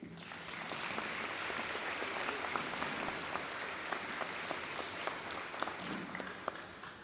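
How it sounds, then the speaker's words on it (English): Clapping fills a high school graduation ceremony hall, a broad crowd of hands applauding steadily with sharper individual claps standing out, somewhat distant and sustained throughout. "Another round of applause for Mr."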